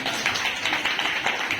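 Brief, fairly faint clapping from a few hands, a quick run of claps heard in a room.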